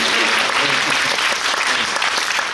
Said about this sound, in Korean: 박수라도 조금 부탁드립니다